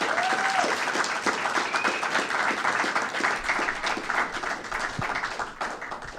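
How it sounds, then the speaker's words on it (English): An audience at a university debate on the existence of God breaks into a sustained round of applause, dense steady clapping from a crowd filling the whole stretch without letting up. "Can we please give them a round of applause?"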